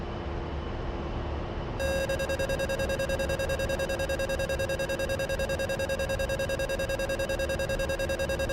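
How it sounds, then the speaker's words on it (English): A flight simulator combat game sounds its pull-up altitude warning: a steady, loud electronic alarm tone with a rapidly pulsing buzz that begins after a brief stretch of background noise and continues unbroken. "Pull up, pull up. Altitude, altitude."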